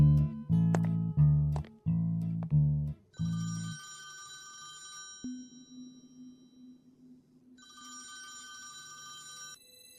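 A telephone rings with several loud electronic bursts in quick succession, then a steady tone and a second trilling ring follow at moderate volume, with no talk.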